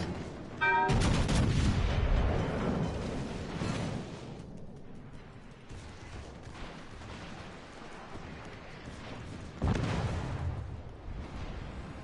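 Secondary guns of the battleship Richelieu firing in a naval video game: a loud opening volley of booming gunfire, then sustained rumbling shots and a second heavy salvo near the end, with no talk.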